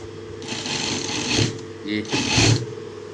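A sewing machine stitches a seam along a front pocket piece in two loud bursts of running, with a short pause between them; a voice talks over the stitching.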